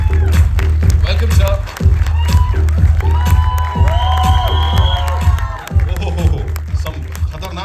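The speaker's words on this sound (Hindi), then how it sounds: "दिलीप ताहिल साहब के लिए जोरदार तालियां हो जाएं" Loud crowd cheering and applause at a trailer launch event greeting actor Dilip Tahil, dense and sustained, with shouts and music mixed in and a voice speaking briefly over it.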